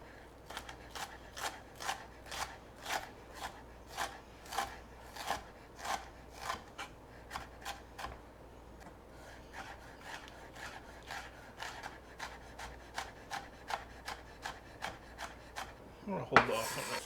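A knife slices jalapeno peppers on a cutting board while shrimp ceviche is being made. Crisp, evenly spaced chopping strokes repeat about twice a second and are heard close up. They pause briefly mid-way, then resume, with no talking.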